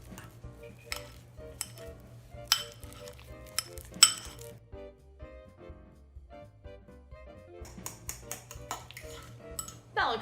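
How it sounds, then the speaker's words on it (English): A fork clinks and scrapes against a bowl as a banana is mashed for three-ingredient cookies, with irregular sharp taps and soft squishing strokes, close and fairly quiet, no talking. "Now I'm putting it in the bowl, and I'm gonna mash it with a fork."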